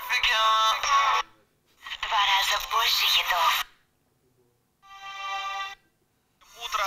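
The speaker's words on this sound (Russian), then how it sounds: "радио запустилось, я на секунду остановлю, очень громкий динамик" FM radio playing through the loud built-in speaker of an Ark Power F1 mobile phone, with clear broadcast bursts broken by short silent pauses.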